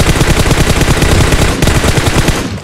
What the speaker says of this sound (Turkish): Mermi sekti biliyor musunuz?